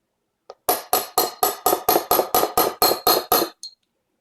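A hammer taps a firing pin into a Remington 870 shotgun, about a dozen sharp, evenly spaced metallic strikes in quick rhythm, close and crisp, with no one talking.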